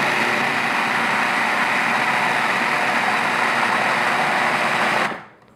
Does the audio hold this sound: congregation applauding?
no